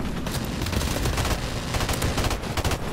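Continuous rapid automatic gunfire from a gun in the video game Call of Duty Modern Warfare, a dense, loud rattle of shots that never pauses, with no talking.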